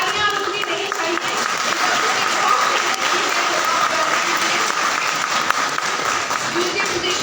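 Steady, loud crowd clapping at an agricultural festival prize ceremony held at a government horticulture campus; the applause runs unbroken across the whole stretch, with a faint murmur of voices beneath it.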